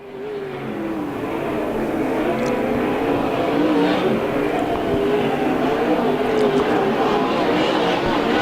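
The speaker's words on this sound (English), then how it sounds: "amazing action out of these 410 sprint cars here tonight." 410 sprint cars racing in a USAC Southwest main event at Canyon Speedway, a loud continuous roar of multiple engines from the pack, with a race announcer talking over it.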